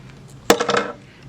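Scissors snipping embroidery thread to trim a cross stitch tassel, a single sharp close cut followed by a brief metallic rattle, alone in a quiet room.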